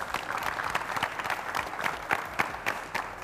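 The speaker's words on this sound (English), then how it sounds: "A big round of applause for all 5 finalists from the South Zone." Scattered, uneven clapping from an audience at a televised school quiz final, individual claps standing out as distinct sharp hits rather than a dense roar, moderately loud throughout.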